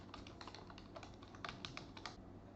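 Fingers type a password on a computer keyboard while installing Kali Linux, producing a quick, quiet run of close key clicks with slightly irregular spacing that stops just before the end.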